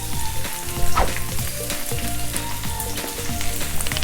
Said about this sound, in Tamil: வெங்காயத்தை ஆட் பண்ணி அதையும் ஒரு 5 to 10 மினிட்ஸ் வந்து மெதுவான சூட்டில் நல்லபடியாக வதக்குங்க